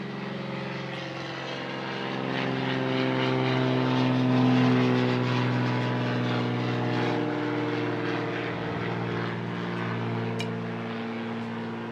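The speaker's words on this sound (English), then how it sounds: "we had the aeroplanes from Anzac Day. They flew straight over this house out to the ocean" Anzac Day propeller aircraft drone steadily overhead toward the ocean, the engine hum swelling to a peak midway and then easing off as they pass.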